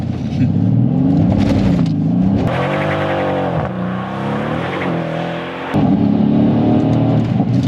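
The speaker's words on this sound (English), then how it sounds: "Let's give it a small power slide" A straight-piped 2008 Mercedes C63 AMG revs hard through a power slide on a wet road, its V8 roaring loud and close with rising and falling pitch and a brief drop in throttle midway.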